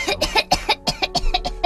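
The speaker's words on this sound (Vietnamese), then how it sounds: "Bởi vậy bệnh nè, ho nè." An elderly woman in a drama coughs about a dozen times in a fast, ragged run, close and loud, with hoarse, throaty bursts.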